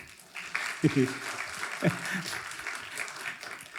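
Audience applause at a talk, a steady burst of clapping filling the space with a speaker's voice briefly over it.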